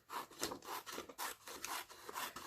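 Scissors cut through glossy history magazine paper into small squares, giving quiet rhythmic rasping snips that repeat about twice a second.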